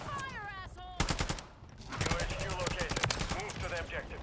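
Rapid automatic gunfire in Modern Warfare 3, an ACR rifle among the weapons, crackles in dense bursts over game sounds, with people talking over the shooting.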